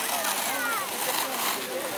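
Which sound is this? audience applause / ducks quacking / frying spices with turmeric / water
water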